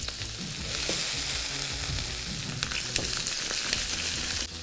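Artichokes fry in a pan over an olive-oil soffritto, a steady, close, loud sizzle with crackling pops running throughout and no voices.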